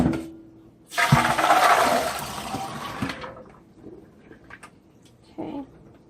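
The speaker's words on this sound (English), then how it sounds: "I'm going to go ahead and drain them." Soaked pinto beans being drained, water pouring out in a loud, steady rush for about two seconds, then trailing off into scattered drips and small clinks, with a short splash near the end.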